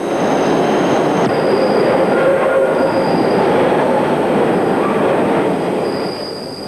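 A London Underground tube train runs loud and close, with a steady roaring rumble of wheels on track and thin high squeals drifting in and out.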